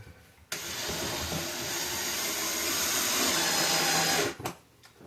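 A power drill drives a screw into a medicine cabinet during installation, a steady whirring motor run of about four seconds that starts abruptly and cuts off, close and fairly loud, with no talking.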